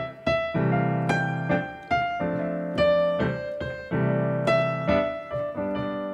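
Piano plays the Ode to Joy melody over left-hand sixth chords, a steady sequence of sustained, sharply struck chords with clear harmonic tones, close and alone with no voices.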